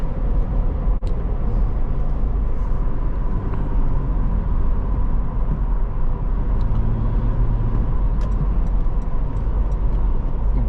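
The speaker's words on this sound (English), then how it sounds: "you press the gas and you're going pretty darn quick" A 2023 Toyota 4Runner TRD Off Road Premium with a 4-liter engine drones steadily as it accelerates, heard from inside the cabin as a low, even rumble with faint ticking and a brief sharp click early on.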